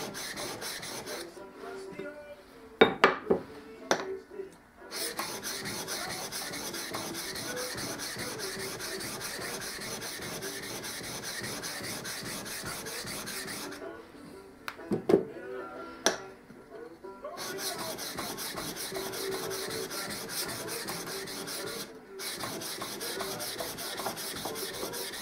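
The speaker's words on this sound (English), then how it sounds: "And on this Shafton, I'm going to remove the previous scratches from the diamond plate." A 70mm Japanese kanna plane blade has its bevel honed on a Shapton sharpening stone, making a steady, close rasping scrape over long stretches, broken by a few brief pauses and sharper scuffs.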